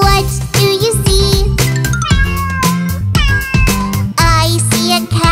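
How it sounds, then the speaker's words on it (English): A cartoon cat meows repeatedly in a children's nursery rhyme, loud bright mews stacked over busy, bouncy music that runs throughout. "I see a cat. Meow, meow, meow."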